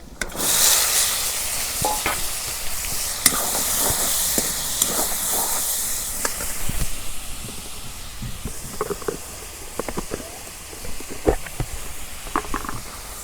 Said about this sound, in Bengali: মটর আলু ধুয়ে রাখছি, এখন দিয়ে দিই।